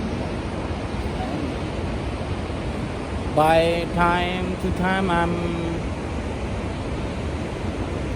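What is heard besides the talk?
waterfall in the Cambodian jungle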